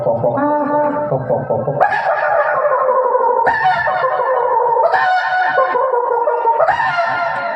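A human voice mimics a rooster's crow at a village comedy show, rising and stretched, repeated in several loud, harmonic bursts back to back.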